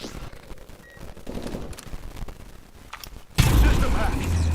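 XS-1 Vulcan gunfire in a video game starts as scattered shots and mechanical clatter, then bursts into a sudden loud, sustained roar of rapid fire near the end.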